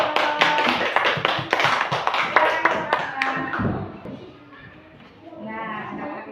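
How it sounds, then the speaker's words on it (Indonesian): Children in a classroom clap their hands together in a quick, rhythmic pattern for several seconds, close and loud. The clapping then stops and voices talk quietly. "tepuk tangan dulu"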